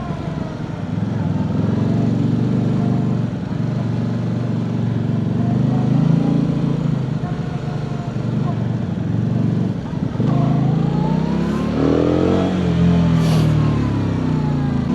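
A KOVE 625V Lancer performance cruiser motorcycle pulls away in first gear, its engine droning steadily and rising in pitch under wind noise, with a brief dip before revving up again.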